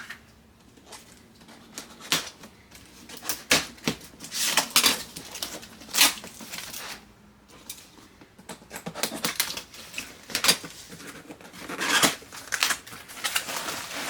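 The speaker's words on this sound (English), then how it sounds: "But I'll just use scissors." Repeated sharp snipping and crinkling bursts, irregular and close, as scissors cut through the packaging of a Janome Continental M8 sewing machine, with rustling in between.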